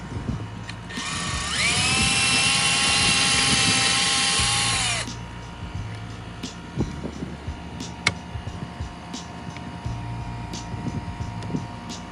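A power drill boring pilot holes for mounting a solar security light on a house wall, one steady loud high whine lasting about four seconds with a brief spin-down, then quiet room noise with small taps.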